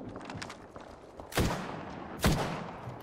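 Two sharp, loud gunshots crack out about a second apart in the shooter Apex Legends, each with a short echoing tail, over a bed of faint clicks and game ambience, with no talking.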